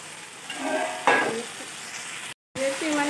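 Pumpkin stems sizzle steadily in a hot pan and are stirred with scraping strokes while an Assamese charchari cooks, with a brief gap of silence near the end.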